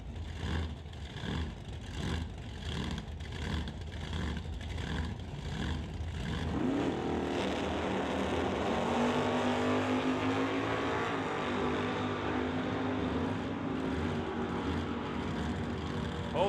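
At a drag strip, a Chevy Nova and a Monte Carlo drag car idle with a lumpy, pulsing rumble, then launch into a loud, sustained roar that stays strong as they pull away.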